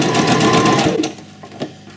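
A sewing machine stitches a cotton double gauze skirt in a loud, steady run lasting about one second, then stops, leaving quieter handling noises.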